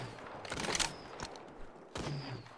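Video game gunfire from a Triple Take rifle under sniper fire, two loud bursts of shots about a second and a half apart, with echoing tails and a faint tone after each.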